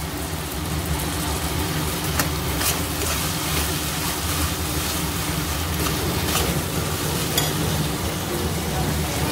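Onions frying in a pan for a brinjal, potato and tomato curry, giving a steady, dense sizzle that holds evenly throughout with faint scraping stirs and no voices.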